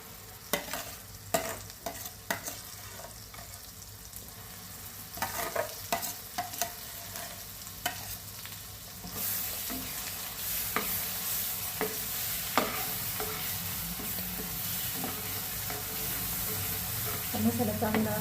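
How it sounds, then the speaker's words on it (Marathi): Masala paste for a prawn curry fries in oil while a spoon stirs it, giving steady sizzling with repeated scraping and knocking strokes that thicken into a denser, hissier fry in the second half. "मसाला चांगला परतून घेऊ व्यवस्थित, तेल सुटेपर्यंत"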